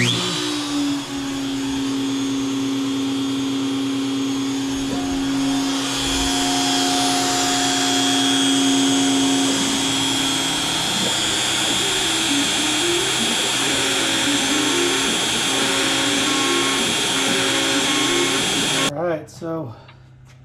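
A CNC machine spindle runs while machining a custom knife with no dust boot fitted, giving a loud, steady mechanical whine and rushing drone that holds for about nineteen seconds and then cuts off abruptly.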